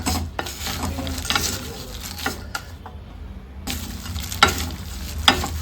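Dried fish fries in a pan for a dry fish chutney, a close, steady sizzle with repeated scraping and tapping strokes from a ladle stirring it, a brief pause partway through.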